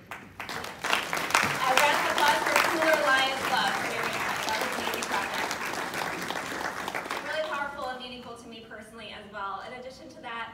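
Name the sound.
audience applauding a Lions Club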